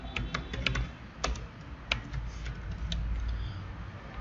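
Keys clatter on a computer keyboard as a name is typed into an Excel 2021 account setup form: quick, light clicks in short bursts over a low background hum.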